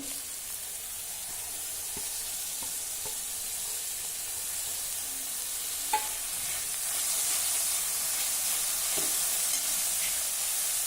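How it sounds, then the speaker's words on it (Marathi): Cooked mushrooms stirred into garlic and green chili sautéing in a pan, a steady bright sizzle and hiss with a few soft scraping stirs and one sharper clink, growing slightly louder toward the end, no voices. "लसूण मिरची जरा परतून झाली की आता यामध्ये ह्या शिजवलेल्या डिंगऱ्या घालू"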